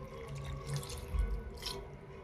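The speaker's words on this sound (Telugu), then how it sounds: "కొంచెం వాటర్ పోసుకుందాం" Water pouring into soaked dosa batter in a grinder, a steady trickling wash with a brief heavier splash midway, close and alone.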